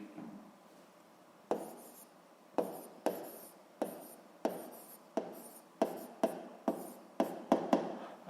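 A pen writes on paper as students take notes in a classroom. The scratching comes in short bursts, each stroke starting with a sharp onset, close and faint, with no talk over it.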